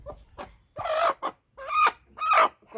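A large native hen clucks up close in loud, separate bursts, with about five throaty calls spaced across a couple of seconds and quiet gaps between them.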